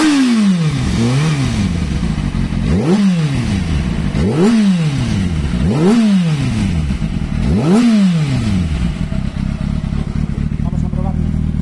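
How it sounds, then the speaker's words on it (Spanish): A Kawasaki Ninja ZX6R motorcycle engine is revved repeatedly while stationary, five sharp rises and falls in pitch over a steady idle, loud and close with some mechanical clatter. "la parte inferior y la parte superior del motor suenan bien"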